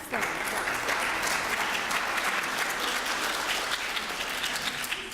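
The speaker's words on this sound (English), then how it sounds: "Let's give Angela another round of applause." Audience applause for a speaker named Angela at a senior Medicare information session, a steady, dense wash of clapping filling the whole stretch at even loudness with no voices on top.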